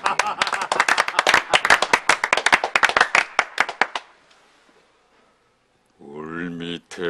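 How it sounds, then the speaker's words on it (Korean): People clap hands in a rhythmic burst at a Korean drinking gathering honoring a former teacher, dense and close for about four seconds, then a pause before a voice begins singing. "자, 박수, 박수."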